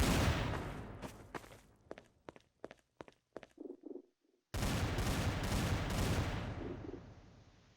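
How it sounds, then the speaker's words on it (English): Series of gunshots in the video game Garry's Mod, DarkRP mode: sharp distinct cracks in an irregular burst, some spaced apart, followed by a few softer thuds, then a sudden loud broadband noise bed. "hearing a series of gunshots from the neighboring complex"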